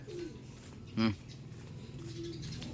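Pet pigeons coo once, briefly and close, around the middle, over a steady low background hum.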